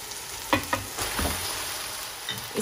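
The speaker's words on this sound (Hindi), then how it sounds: "इस मैक्रोनी को इस मसाले में अच्छी तरीके से मिक्स कर लेते हैं।" Boiled macaroni is stirred into chicken masala frying in a pan, giving a steady close sizzle broken by a few scraping, clattering strokes of the spoon.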